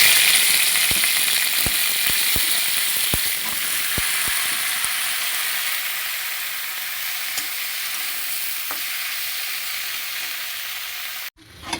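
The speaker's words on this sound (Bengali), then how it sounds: "এবার সিমটাও ভেজে নেব একটু হালকাভাবে।" Flat beans fry gently in oil in a pan, giving a steady, bright sizzle with occasional sharp clicks of stirring early on, and the sound continues alone to the end.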